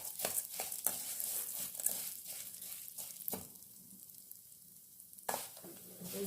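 Urad dal dry-roasting in a pan for idli podi, giving a soft scratchy rattle with stirring scrapes and a few louder clicks of the spoon against the pan, quieting for a stretch before stirring resumes.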